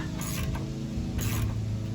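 A tool is run down into a threaded hole on a Toro Timemaster mower to clean out the threads, giving close metallic ratcheting and grinding in two short bursts over a constant mechanical drone.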